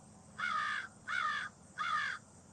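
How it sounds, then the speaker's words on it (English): Three evenly spaced, raspy caws from a crow on an Ohio farm ring out clearly over faint outdoor ambience. "There's another crow."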